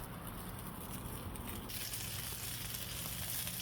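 Food sizzles on a plancha griddle after a thin coat of marinade is added, a steady close crackling hiss that brightens noticeably about halfway through, with no talking.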